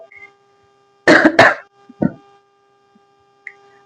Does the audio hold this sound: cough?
yes